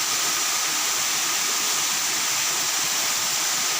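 Pangkadari waterfall thunders as a steady, dense, unbroken roar of falling water, loud and close, filling the whole scene with constant broadband rushing and no voices.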